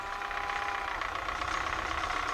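A tractor engine idles steadily after being cranked on a snowy property, a continuous, fairly loud mechanical rumble with a knocking pulse throughout.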